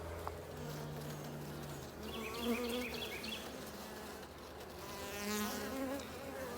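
Honey bees buzz steadily at a hive entrance while foragers return carrying pollen, a dense droning hum with overlapping wingbeats, close and continuous throughout with no talking.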